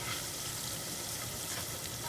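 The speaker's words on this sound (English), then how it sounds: "the onions are cooking nicely, starting to turn translucent" Onions fry in a pan, turning translucent, with a steady, soft sizzle and crackle that holds evenly for a couple of seconds.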